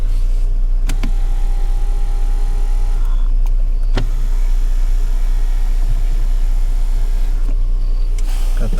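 Power adjustable pedals on a 2018 Ford Explorer Police Interceptor, a steady electric motor whir running under loud cabin hum, with a few sharp clicks as the switch starts and stops.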